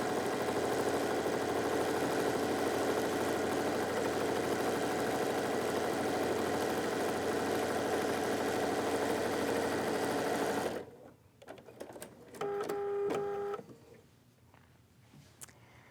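A sewing machine stitches a straight fabric tuck for a quilt pillow, a steady close whirring hum that runs continuously and then stops, leaving quieter handling clicks and rustles.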